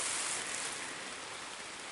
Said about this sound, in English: Right now, we're under a brief rain shower.